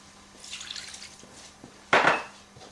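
A cupful of water is poured from a mug into a cooking pan of sauce, a short clattery splash after a faint clink of kitchenware.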